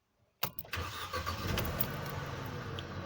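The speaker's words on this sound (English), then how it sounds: "Let me start this car so that we can understand what I mean." A car engine cranks and catches, rising to a brief rev before settling into a steady, close idle with no talk.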